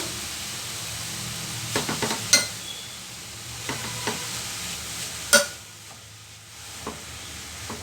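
Grated mixture for halwa is stirred in a heated pot, giving soft scraping and occasional sharp spoon knocks against the metal over a quiet background hiss, close and fairly quiet with no talk.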